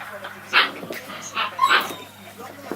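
Six-week-old puppies whimper and yip in short high bursts, several overlapping calls close by, while a person talks to them over the noise.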